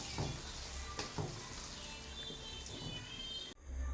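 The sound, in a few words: ground paste frying and stirred for garlic pickle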